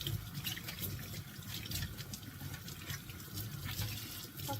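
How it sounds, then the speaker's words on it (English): Green onions rinsed under a running kitchen tap, a steady broadband splash and hiss of water that stays loud and even throughout, with no talking. "It's important to wash the green onions thoroughly, even if you're going to cook them"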